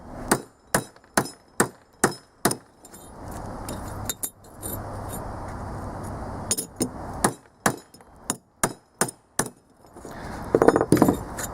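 A homemade stainless steel flat washer is hammered flat: a dozen or more sharp, ringing metal strikes in uneven bursts, separated by a stretch of steady background noise, all close and loud.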